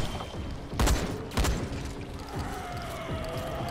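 Gunfire in the zombie survival game Dying Light: The Following, with two loud sharp shots about half a second apart over constant game ambience and low rumbling.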